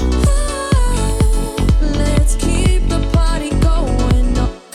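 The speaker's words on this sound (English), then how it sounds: "So for piano house, I'm going to use the Korg M1 piano." Korg M1 piano stabs drive a piano house groove, punchy chords hitting in a bouncy rhythm over a deep low end, loud and up close, playing alone until an abrupt cutoff at the end.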